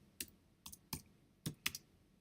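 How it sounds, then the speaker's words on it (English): Several separate keystrokes on a computer keyboard, soft quiet clicks spaced irregularly in a short burst with no talking. "And I'm going to type in Columbia."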